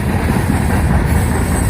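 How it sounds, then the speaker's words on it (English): Train rolling past on railroad tracks right beside an Appalachian Trail campsite, a loud continuous rumble of wheels and cars, heard up close without any talking. "The trains do run all night"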